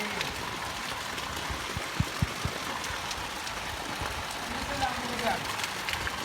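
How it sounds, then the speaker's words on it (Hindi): Steady heavy rain pours down outdoors at a bird enclosure, a continuous broadband hiss with a few scattered louder drips and knocks, no voices heard. "बारिश माशाल्लाह अब तेज़ हो रही है इस वक्त काफ़ी।"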